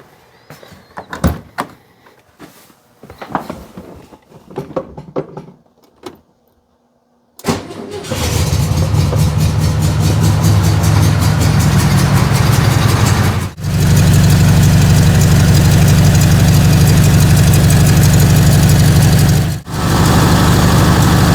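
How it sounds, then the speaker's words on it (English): A few clunks and rustles, then a 1967 Volkswagen Beetle engine cranks and catches, settling into a steady, loud idle that drones on with a couple of brief dips. "So we're gonna go ahead and fire it up, let it warm up"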